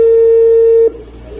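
A recorded phone call plays back, opening with a loud, steady single dial or ringback tone that holds for almost a second and then cuts off, leaving a faint line hiss.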